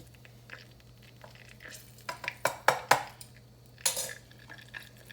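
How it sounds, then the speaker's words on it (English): Battered green tomato slices go into a hot frying pan on a home stove, bringing a few close clattering knocks and spatula scrapes with short bursts of hissing sizzle. "I'm gonna dip them in this right here and put them in here and let them fry"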